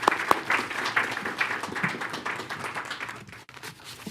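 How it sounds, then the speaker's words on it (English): Round of applause at a school board meeting, a moderate crowd clapping steadily for about four seconds with irregular individual claps, fairly close, then tapering off near the end. "let us give a round of applause for Dr. Welsh and his presentation."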